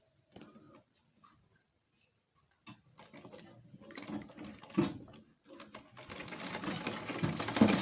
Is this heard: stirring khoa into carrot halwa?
no